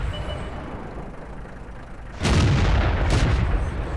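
Two heavy cannon booms from an M4A3E2 Sherman Jumbo in World of Tanks, fired a second apart over a steady rumbling engine background, loud and close.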